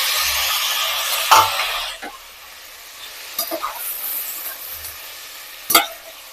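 Washed mutton pieces fry in a pan for South Indian mutton kurma, a sizzling hiss broken by several sharp scraping stirs of a spoon, close and alone without talk.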